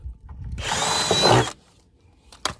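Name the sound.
power drill drilling holes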